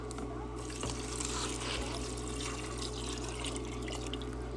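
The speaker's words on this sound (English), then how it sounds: "so I'm going to add a little bit more water" Water poured into a pot of toasted noodles for a cheap, simple soupy dinner makes a steady trickling flow, close and continuous over a constant kitchen hum.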